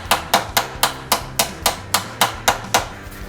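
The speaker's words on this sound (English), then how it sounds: "now I'm going to go ahead and peen this over a little bit" A hammer peens sheet metal on a rusty car's newly tacked trunk extension: about a dozen sharp, ringing metallic strikes, evenly spaced in a steady rhythm, close and loud.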